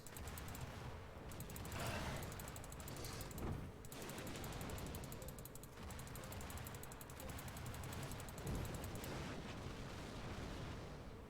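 Cannon shots fired at crystals in the fort battle game Sky Cannoneer come as a dense run of booming blasts and explosions, steady and loud across the whole stretch with no talk.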